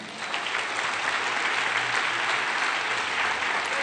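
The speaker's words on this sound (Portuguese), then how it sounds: "Você pode aplaudir o Senhor?" A church congregation applauds steadily and loudly throughout, a dense wash of clapping with no gaps.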